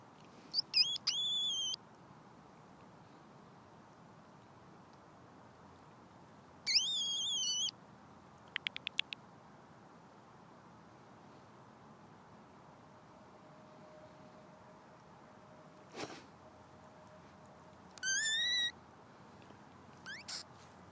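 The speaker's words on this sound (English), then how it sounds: "Oh, there's an owl screeching back." Several short, shrill screeching calls ring out at intervals over a quiet, hissy background, some far, one sharper and closer.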